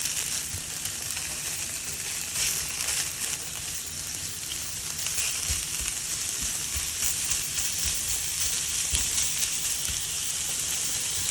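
Pork chorizo frying in a pan, a steady bright crackling sizzle with dense popping spatter that holds evenly throughout, close and fairly loud, with no talking.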